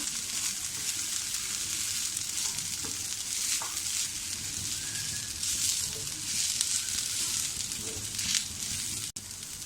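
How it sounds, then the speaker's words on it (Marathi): Fresh grated coconut roasting with onions in a pan for a country chicken curry, producing a continuous bright sizzle with occasional stirring scrapes, close and fairly loud, with no voices. "यातच आपण ओलं खोबरं टाकूया। आपल्याला हे व्यवस्थितपणे भाजून घ्यायचं आहे खोबरं।"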